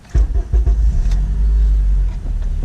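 A Honda car with an electric power steering fault is started, a low cranking rumble catching into a steady, close engine idle with no talk.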